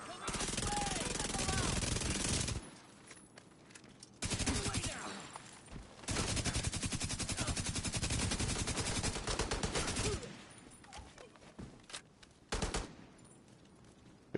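Sustained automatic gunfire in The Division 2 on PS5, long loud machine-gun bursts rattling in dense rapid strings with brief pauses between volleys, close and intense, voices faintly underneath.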